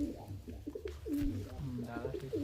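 Tournament pigeons in a loft coo softly and repeatedly at close range, throaty rolling calls overlapping one another, with faint background murmur.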